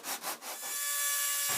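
A few rasping saw strokes on a thin wooden guitulcimer soundboard, then a continuous bright whine of a cutting tool biting steadily through the wood.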